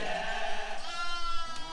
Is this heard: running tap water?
no